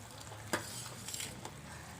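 Pepper rasam is stirred in a pot with a soft, low hiss and a few light clinks of a spoon against metal, faint and without talk.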